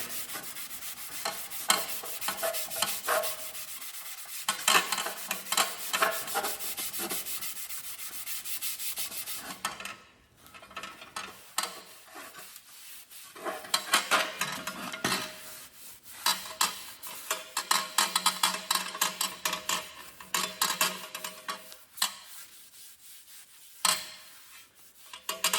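Rust being scrubbed off parts of a 1952 Columbia bicycle, heard as close, gritty rubbing strokes in uneven bursts with short pauses, loud and alone with no talk.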